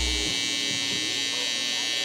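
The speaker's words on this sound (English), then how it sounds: "we'll go ahead and grab our trimmer" An electric hair trimmer buzzes steadily as it is switched on during a high taper haircut, a continuous close whine that holds for about two seconds.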